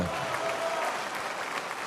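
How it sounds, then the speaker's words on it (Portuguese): A church congregation in São Paulo applauding during worship: dense, continuous clapping from a large crowd, steady throughout, with voices blended into the applause. "Vai aplaudindo e vai glorificando."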